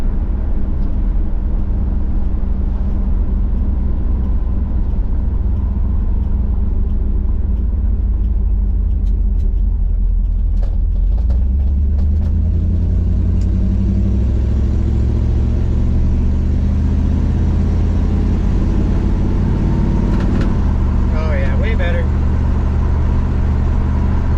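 A 1987 Dodge D100 pickup with ignition timing trouble runs close by, a low steady engine rumble that rises in pitch as it revs partway through, with someone talking over it.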